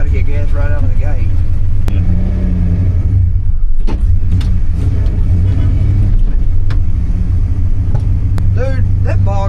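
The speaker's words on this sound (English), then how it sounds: "that bogged, and that was in the lowest gear" A truck engine in granny low gear bogging down during a dyno run, heard as a heavy, loud, low rumble that labors and surges without clean revving, with people talking over it and sharp clicks scattered throughout.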